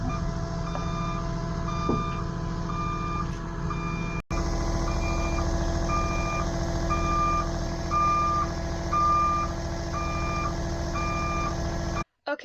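Truck backing up to unload lime on a farm, its reversing alarm beeping in a steady repeated rhythm at moderate distance over a low idling engine rumble, with a brief thump partway through.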